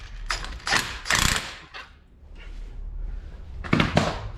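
Metallic ratcheting clicks in short bursts as a nut is tightened down on a Peugeot 207 engine being refitted, sharp close rasps separated by brief pauses, no talking.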